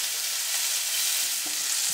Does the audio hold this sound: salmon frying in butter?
yes